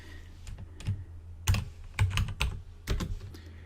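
A name is typed on a computer keyboard: close, crisp key clicks arriving in short irregular bursts with brief pauses between them.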